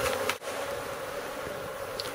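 A large wild honeybee colony, five years old, buzzes in and around its hive during a relocation, making a steady droning hum with a few individual bees passing close.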